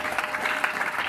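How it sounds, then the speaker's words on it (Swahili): A church congregation applauds in praise of Jesus after a testimony, a dense, steady wash of hand claps lasting about a second, with voices mixed in. "makofi kwa Bwana Yesu"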